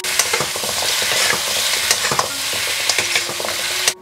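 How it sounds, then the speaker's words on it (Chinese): Pork trotters fry in a wok until slightly charred as cooking wine is poured in, giving a loud close crackling sizzle with scraping spatula strokes and sharp pops, ending abruptly. "煎到有点焦巴，再淋上一些料酒。"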